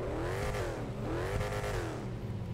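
A car engine revs up and down twice in long, smooth sweeps, close and loud, with a steady rumbling idle underneath and no talking.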